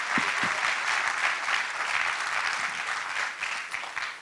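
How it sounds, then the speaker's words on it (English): A room of event attendees applauds continuously, a dense, sustained wash of many hands clapping at even loudness. "just rise so we can give all of you a round of applause"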